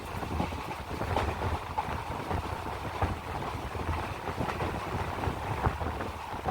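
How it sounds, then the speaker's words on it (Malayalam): The Velankanni Express, a diesel train, rolls through Mulanthuruthy station without stopping and sends out a steady broad rumble with faint rhythmic clacks. The noise is continuous and moderately close, with no voices. "അങ്ങനെ വേളാങ്കണ്ണി എക്സ്പ്രസ് മുളന്തുരുത്തിയും സ്കിപ്പ് ചെയ്യുകയാണ്."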